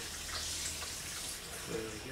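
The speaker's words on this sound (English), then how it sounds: "we now just wash the print in cold water for a few minutes" Cold water runs steadily over a gum bichromate photographic print as it is washed, a soft continuous splashing hiss at low level.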